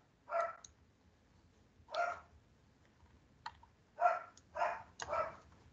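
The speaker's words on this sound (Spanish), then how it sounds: "un perrito nervioso" A nervous little dog barks in short, sharp bursts, about five separate yips spread over several seconds, close and clear with quiet pauses between them.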